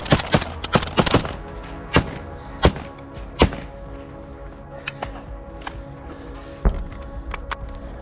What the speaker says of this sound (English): Mortars and an automatic grenade launcher system, likely an AGS, were also active in the area.